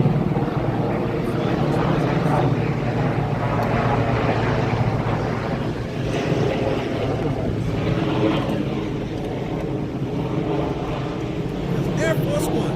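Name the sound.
military plane flying over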